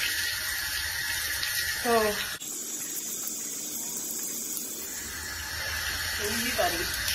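Water from a hose running over a young horse's leg during a washdown, a steady gushing splash lasting throughout, with a person talking briefly and a short interruption partway.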